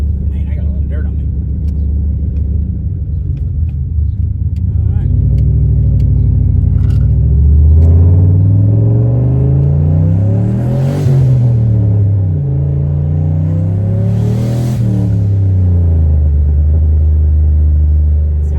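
A Ford Mustang fitted with an aftermarket Borla or Flowmaster exhaust rumbles loudly and close by on a test drive, with a deep steady idle that swells into two rising, raspy revs, while a voice talks over it.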